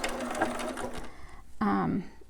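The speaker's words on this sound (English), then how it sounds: "I'm going to move it over one more time, twice from the middle. Again, I like to be right on that edge, so I'm going to back stitch." A sewing machine back stitches along the edge of a newborn romper, a short run of steady whirring stitches that stops, then resumes louder and closer for a final burst.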